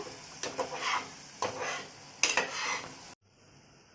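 Prawn gravy ingredients sauteed in a pan at home, with a spoon scraping and clinking against the metal in three separate stirring strokes over a quiet sizzle, then a sudden stop.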